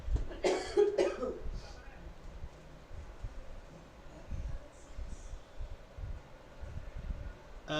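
A few coughs from a person near the microphone, two close bursts early on, then quieter noise with faint talk in the background.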